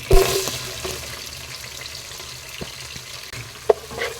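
Sliced onions frying in hot oil for chicken biryani, a continuous moderate sizzle with a sharp spatter at the start and scattered stirring clicks.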